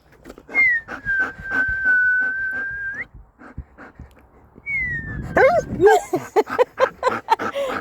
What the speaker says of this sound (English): You don't like the whistle? Whistle sound?